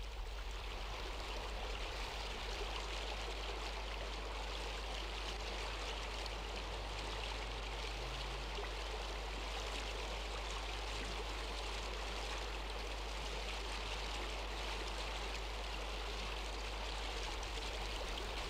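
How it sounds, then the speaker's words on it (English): Water from storms streams steadily across limestone pavement in Ireland's Burren, a continuous broadband rush and trickle with no pauses, close and evenly loud throughout. "the elemental force with most effect is water, running across the surface, dissolving the limestone, cutting runnels"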